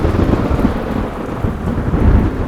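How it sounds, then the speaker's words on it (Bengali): Heavy rain at night pours steadily with a deep, rumbling low roar like distant thunder, loud and continuous with no voices. "রাতে খুব বৃষ্টি হচ্ছিল।"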